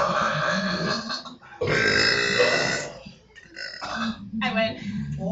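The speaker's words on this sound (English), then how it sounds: "I've ever been beaten at a burping contest" Long, loud burps in a burping contest between friends, several drawn-out belches in a row with brief gaps, close to the mic and alone without talk.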